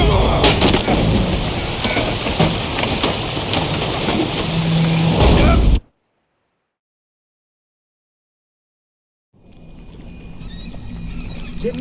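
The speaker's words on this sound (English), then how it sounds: "Didn't bargain for no storm." A thunderstorm with heavy rain in The Witcher 3 video game: a loud, dense roar of downpour and rumbling thunder that drops abruptly to silence, then returns softer with steady rain.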